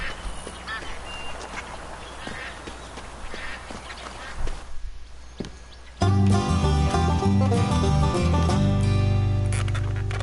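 Ducks quacking in the Duck Dynasty video game, scattered calls over an ambient outdoor bed, then loud game music cuts in and plays over the rest.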